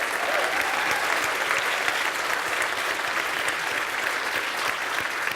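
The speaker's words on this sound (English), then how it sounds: "Big round of applause for them, please." A theatre audience at a science communication competition final applauds the contestants, a loud, steady wash of clapping sustained throughout without a break.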